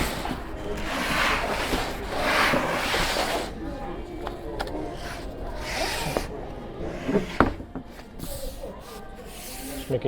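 Plywood boards scrape and slide against each other while being handled at a store, with rough rubbing and hissing sounds that continue over several seconds and end in a few knocks, with speech heard at times.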